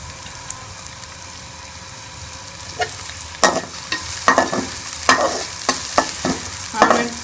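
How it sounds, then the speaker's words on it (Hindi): Onions fry in a pan while being stirred to brown, a soft sizzle under repeated scraping and clattering strokes that grow busier toward the end, close up with no talk. "और प्याज को हम ब्राउन कर लेंगे।"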